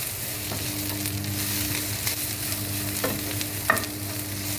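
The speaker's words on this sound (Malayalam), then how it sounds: "മഞ്ഞൾപ്പൊടി ഇട്ട് കൊടുത്ത് അത് നന്നായി ഇളക്കി യോജിപ്പിക്കുക" Turmeric powder is stirred into a pan for a bitter gourd theeyal. A steady sizzle runs underneath, with a few soft scrapes of the spoon against the pan, close up and with no voices.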